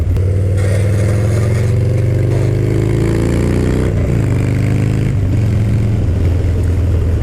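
A Harley-Davidson Dyna motorcycle engine rumbles loud and close during a ride in hot weather, rising and falling in pitch as the rider revs and shifts, with steady wind noise throughout.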